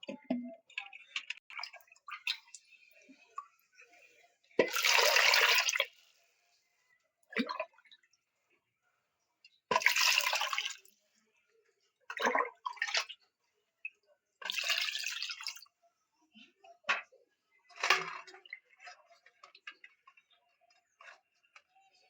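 Potatoes are rinsed a second time in water, with intermittent splashing bursts and small drips and clinks between quiet gaps.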